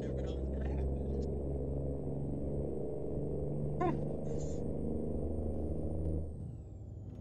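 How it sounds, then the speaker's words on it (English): A heavy truck engine in American Truck Simulator drones low and steady, a deep, even rumble that holds for several seconds, with a brief chirping sound partway through, before fading near the end. "Engine still sounds great."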